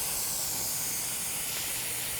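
Steak searing on a high-heat grill griddle for fajitas, a steady, even sizzling hiss that holds at moderate volume throughout with no talking.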